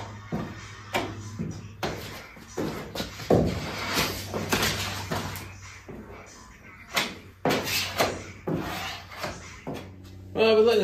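Body filler is spread by hand over sanding scratches on a 1968 Pontiac Firebird body, a series of close, irregular scraping and rubbing strokes with brief pauses between passes.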